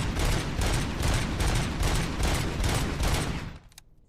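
In the game Robocop: Rogue City, a gun with explosive rounds fires rapidly in loud, evenly spaced repeating bursts that run nearly continuously, then stop, leaving a quiet tail.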